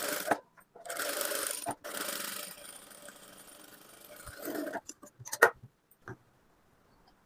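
A sewing machine stitches a folded half-inch hem on a blouse in steady whirring runs, broken by short pauses and a few clicks, then falls almost silent at the end.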